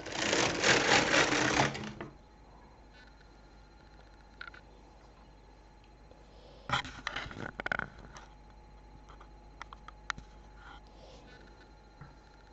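An LK 150 knitting machine carriage makes a quick, loud whirring run across a row, followed by quieter scattered clicks and taps from handling the machine.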